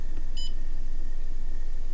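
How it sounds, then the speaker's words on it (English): A Siglent SDM3065X bench multimeter gives a single short electronic beep near the start, a brief high tone over a steady low hum, then only quiet background. "I guess maybe it beeps or something outside that range"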